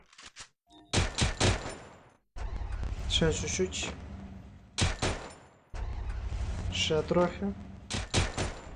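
Gunfire in the Free Fire video game: repeated sharp broadband bursts of shooting come in clusters, loud and close, with someone talking between and over the shots.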